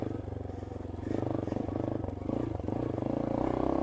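A Yamaha XT250 dual-sport motorcycle putters along a single-track trail, its single-cylinder engine thumping steadily close by with slight rises in revs and faint clatter underneath.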